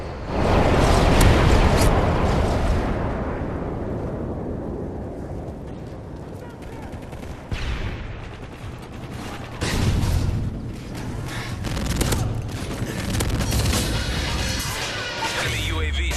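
A video game air bomb run ends in a heavy blast that booms loudly at the start and rumbles away, followed by further thuds and crashes scattered over the next several seconds.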